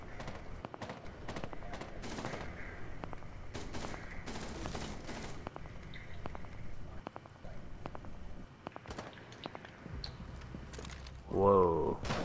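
Rainbow Six Siege gunfire rips through a wall, with quiet, rapid bursts of automatic shots scattered through the round, distant and low under game ambience, with a louder mechanical clatter near the end.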